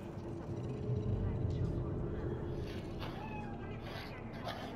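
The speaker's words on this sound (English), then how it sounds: "Do you see it? That cat?" A cat in the game Cyberpunk 2077 meowing in the city at night, faint meows under a low engine-like ambient rumble, with some voices in the game nearby.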